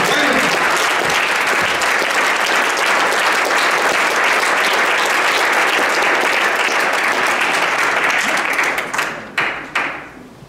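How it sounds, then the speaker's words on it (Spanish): Loud, sustained applause from a church congregation during a sermon, a dense wash of clapping that holds steady before thinning out and ending in a few scattered final claps. "Fuerte el aplauso para la gloria del Señor"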